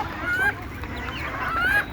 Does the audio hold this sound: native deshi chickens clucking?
yes